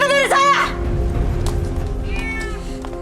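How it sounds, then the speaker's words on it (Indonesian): A cat lets out one loud, close, drawn-out meow at the start, followed by quieter rustling and a fainter cry over a low hum. "Jauhkan kucing itu dari saya"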